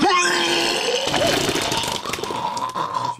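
A long, strained, gagging vocal burst with a retching, burp-like roughness, loud and close, fading into rough throaty noise.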